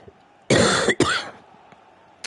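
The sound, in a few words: cough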